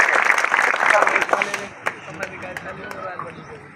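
An audience at a National Safety Week event claps loudly at first, the dense applause thinning into scattered individual claps and crowd murmur.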